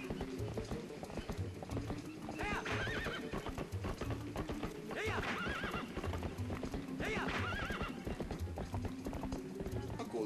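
Galloping horse hooves clip-clop steadily in Zelda: Twilight Princess, with several high, whinnying neighs rising above the rhythmic trot, all at a low level behind game sound.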